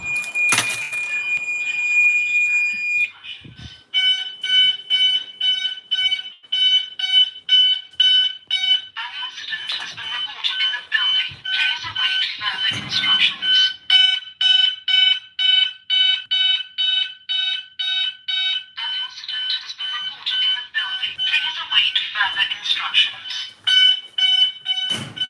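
Vigilon fire alarm system set off from a garage call point, sounding a loud, close, repeating electronic alarm tone in long pulsing bursts, with a recorded voice message playing between the tones.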